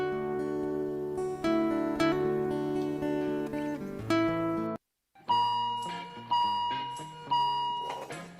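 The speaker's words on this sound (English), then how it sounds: "we know what those alarms mean" Electronic alarm tones sound in repeated, sustained bursts with steady pitched beeping, loud and close, broken by a brief silence midway before a fresh run of alarm beeps resumes.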